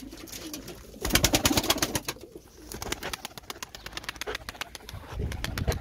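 Domestic pigeons, young game birds kept for flying, cooing close by in a rapid, repeated throaty rhythm that swells and eases over several seconds, with no talking.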